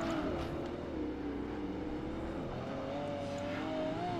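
Porsche Carrera GT racing engine in Project Gotham Racing 2, a steady high-pitched drone with rising and falling pitch, loud and continuous with no talk.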